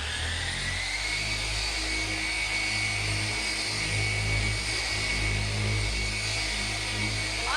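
A dual action car polisher runs steadily up close, giving a loud sustained whine with a high, screechy edge over a low motor hum while working a car's panel.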